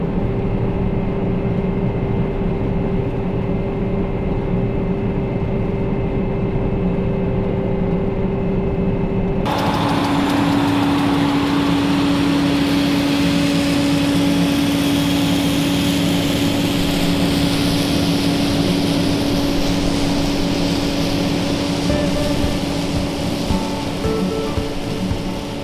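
Steady engine drone of a combine harvester heard from inside the cab with the engine mounted at the rear, a continuous muffled rumble with a constant hum that steps up in tone partway through, no talking.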